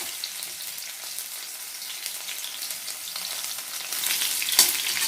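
Garlic and chilli fry in hot oil for a tempering, making a loud, close, continuous sizzle that swells stronger toward the end with a brief crackle.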